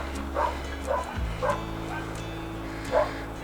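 Several distant barks from a neighbor's six dogs ring out at irregular intervals at a campsite near Tallulah Gorge State Park, Georgia, over a low steady hum, with one louder bark near the end.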